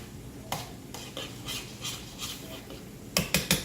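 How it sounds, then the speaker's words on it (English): Canned green beans stirred in a pot on the stove, a handful of scraping, clattering strokes spaced apart, with a quick cluster of sharper scrapes at the end, fairly quiet. "Get my green beans to stir."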